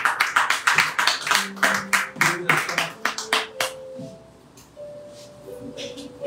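A church congregation claps after prayer, a run of quick, loud, fairly regular handclaps with scattered voices, fading out after about four seconds into quieter murmuring and a sustained tone.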